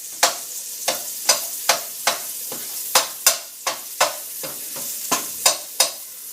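Garlic and paprika frying in a pan while being stirred, a dozen sharp scraping strokes in a steady rhythm over a soft sizzle, close and clear with no talking.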